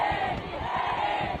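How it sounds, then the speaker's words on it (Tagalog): Crowd of supporters shouting and chanting at a political rally in Naga, a dense, steady roar of many voices held at constant loudness throughout. "Sigawan ng mga pinklawans."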